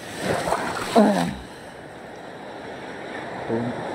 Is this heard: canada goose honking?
no